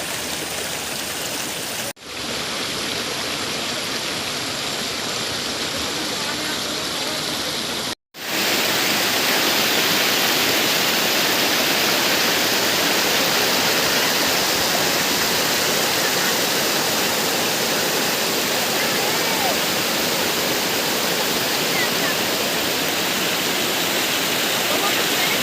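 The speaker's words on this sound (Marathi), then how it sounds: "मित्रांनो बघा ही किती सुंदर अशी नदी आहे इकडे" A scenic river flowing where people are gathering freshwater clams, heard as a loud, steady rush of water that stays constant throughout apart from a short muffled stretch near the start and a brief dropout.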